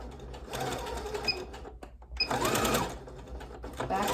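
A sewing machine runs a straight stitch at 2.5 stitch length along fabric for a hair scrunchie. It whirs steadily and close, stops briefly near the middle, then runs again in a second burst.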